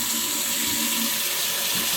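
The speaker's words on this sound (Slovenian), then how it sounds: "ko vodo odprem in ko jo zaprem, lejte, še kar teče in šele zdaj se ustavi" A sink tap keeps running after it has been turned off. Water pours in a steady, close, continuous stream with no talking.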